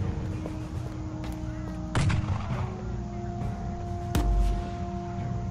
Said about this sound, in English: Oh, you can shoot the spider too.